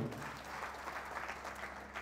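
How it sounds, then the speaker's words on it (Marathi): A lecture audience breaks into applause, a steady wash of many hands clapping at moderate distance that continues evenly throughout. "अशाच टाळ्या वाजल्या"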